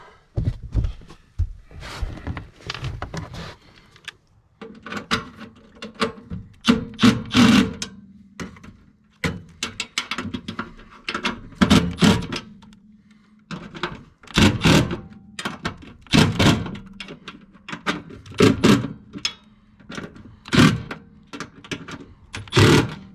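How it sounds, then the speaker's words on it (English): Screws are tightened on a vibrating furnace with a tool, making close, intermittent bursts of sharp mechanical clicks and rattles separated by short pauses. "Just doing a quick snug on all these screws."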